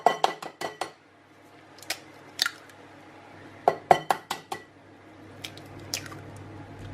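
A whisk beats eggs and vanilla into a white chocolate blondie batter in a metal bowl, making sharp clinking taps and wet squishes that come in quick clusters with short gaps between them, close and fairly faint.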